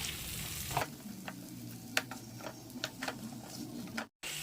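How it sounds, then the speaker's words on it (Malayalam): Sliced green chillies and onion sauté in a pan, with a soft continuous sizzle under scattered sharp taps and scrapes of stirring, fairly quiet and close, cut by a brief dropout near the end. "ഒരു നാല് പച്ചമുളക് നീളത്തിലൊന്ന് അരിഞ്ഞെടുത്തതാണ് അതും കൂടെ ഇതിലേക്ക് ഇട്ട് കൊടുത്തിട്ടുണ്ട് നമുക്കിതൊന്ന് നന്നായിട്ടൊന്ന് വഴറ്റിയെടുക്കാം"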